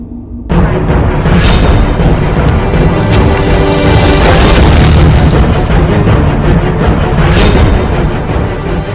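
Bomb blast in Bhagalpur near an anganwadi centre: loud, sustained booming rumble with several sharp bursts rising out of it, filling the whole stretch after an abrupt start, with no speech.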